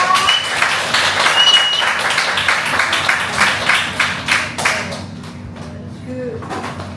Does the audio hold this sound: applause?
yes